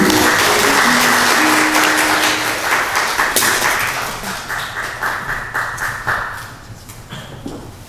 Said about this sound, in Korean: 주님께 영광을 박수를 드립니다.